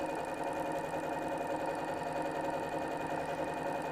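A sewing machine runs a straight quilting stitch with a lengthened stitch setting, giving a steady, close, uniform mechanical whirr and rapid needle chatter with no pauses.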